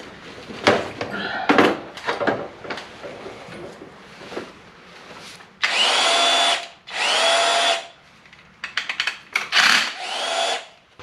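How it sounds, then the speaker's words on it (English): A corded Makita power drill runs in several short bursts, the longest two lasting about a second each. Clinks and handling knocks of metal parts come between them, heard up close in a garage while a garage door opener is being installed. "So here's my good old corded Makita."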